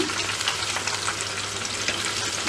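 Chicken wings deep frying in hot oil for a second round, giving a steady, dense sizzle and crackle close by with no talking, the bubbling texture unbroken throughout.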